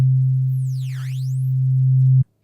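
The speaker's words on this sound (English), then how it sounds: "that's what I did for the second transition sound" Synthesized whoosh transition effect made in Serum: a sustained low tone under a high sweeping tone that dives down and rises back up, loud and close, cutting off abruptly near the end.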